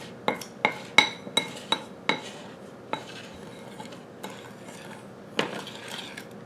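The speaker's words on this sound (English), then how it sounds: "I am mixing the sugar and the cornstarch." A spoon clinks repeatedly against a bowl while stirring sugar and cornstarch together for a cherry pie filling, sharp taps at an irregular quick pace then spacing out, close and clear.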